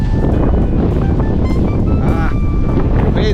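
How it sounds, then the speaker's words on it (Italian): Strong wind buffeting a microphone outdoors in Switzerland, a loud, continuous low rumble with gusty fluctuations, and faint tonal traffic or engine sounds mixed in. "spero che mi sentite, che vento"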